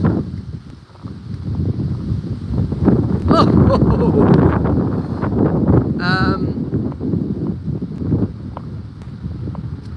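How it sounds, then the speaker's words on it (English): Strong wind buffets the microphone in heavy continuous gusts, outdoors in rain, with a voice talking through it and a brief high call partway along. "It's really windy."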